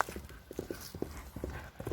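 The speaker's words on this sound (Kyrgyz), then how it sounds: "Азыр бул атты узун чаптырып сиздерге көргөзөлү." A racehorse trotting and galloping on ground, hooves striking in quick uneven clip-clop beats, fairly close and moderately loud, with no one speaking.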